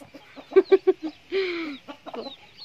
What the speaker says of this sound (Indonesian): hari ini kita mau kasih ayam makan pepaya